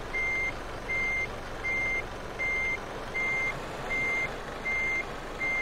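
A truck in Euro Truck Simulator 2, an Iveco, reverses with a steady run of high electronic beeps, eight evenly spaced pulses over a low engine idle.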